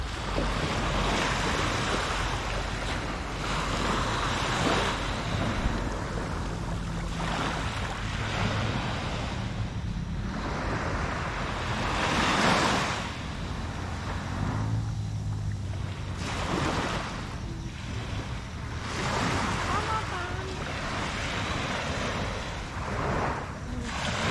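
Calm sea waves wash onto a beach at San Felipe, Zambales, a soft continuous surf with gentle swells rising and falling, wind rumbling on the microphone.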